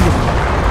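A gunshot from the World War II shooter Enlisted comes as a loud, close blast filling the whole moment with dense, booming noise that gives no sign of fading.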